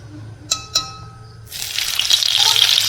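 Oil and butter heat in a pan while egg curry masala is being made. Two light metallic clinks come first, then a sudden loud, continuous sizzle bursts up and holds close for the rest of the moment.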